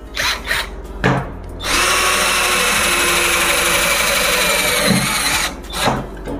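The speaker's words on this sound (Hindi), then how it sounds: "एकदम पूरे परफेक्ट फास्ट स्पीड में सेल्फ ड्रिलिंग स्क्रू लग रहे हैं" An INGCO CDLI1211 12V cordless drill drives self-drilling screws: short bursts of whirring, then a long sustained high-pitched spin, stopping and restarting briefly near the end.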